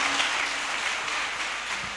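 A church congregation at a Benin gathering claps in a sustained round of applause offered to Jesus Christ, a steady dense patter of many hands.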